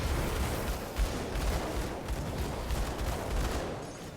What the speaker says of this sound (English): So is it like a plasma beam that just has fire in it, or how do you do? I don't know. I just go. Yeah, with fire noises.